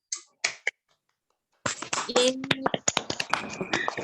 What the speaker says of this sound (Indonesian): hidupkan mikrofonnya untuk beri tepuk tangan yang meriah